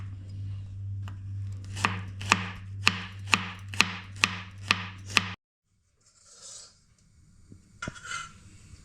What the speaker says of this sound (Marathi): लसणीला सुद्धा तसंच बारीक कट करून घ्यायचे आहे